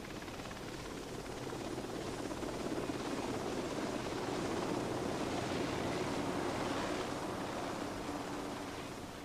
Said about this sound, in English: Once the helicopter is airborne